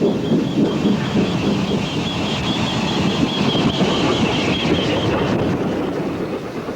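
A long pickup goods train in West Wales in 1958 rolls past steadily with continuous rumbling and rhythmic clacking of wheels, loud and sustained, fading slightly at the end.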